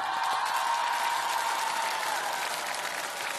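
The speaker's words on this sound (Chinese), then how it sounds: "来，掌声鼓励一下" A studio audience at a Chinese TV singing show claps in sustained, even applause, moderately distant and continuous throughout.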